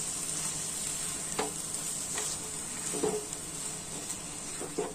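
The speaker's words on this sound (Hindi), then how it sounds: "और इसे अच्छी तरीके से हम मिक्स करेंगे।" A spoon stirs a tomato ketchup sauce with mixed herbs or oregano in a pan over the gas flame, giving a soft continuous sizzle with a few light scraping strokes against the pan.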